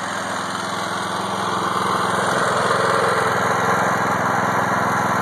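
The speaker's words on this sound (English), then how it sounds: "you heard the generator pick up just a little bit of the load" A DIY belt-driven generator engine runs steadily, driving an alternator by belt under light load, a close, even small-engine hum with a faint rise in intensity midway, no talk.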